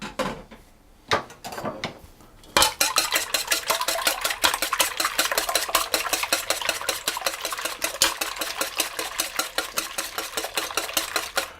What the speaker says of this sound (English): we're going to whisk those until they're nice and frothy